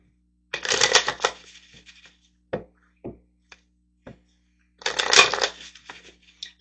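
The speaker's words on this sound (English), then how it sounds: "let's grab some tarot cards over here" Tarot cards shuffled in two loud riffling bursts close up, with a few soft taps and card handling sounds in the quiet gap between them.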